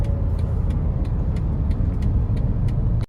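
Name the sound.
car accelerating at high speed in traffic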